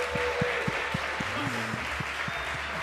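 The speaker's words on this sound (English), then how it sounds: "Let's give them a round of applause." A crowd at a LAN event applauds the winning quiz team, moderate clapping that runs throughout, with a rhythmic low thumping and some tonal music or sound underneath.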